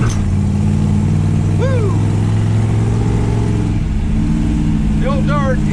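A Dodge Dart with a 273 engine drives and revs, a steady mid-pitched engine drone filling the cabin while a person whoops and speaks over it.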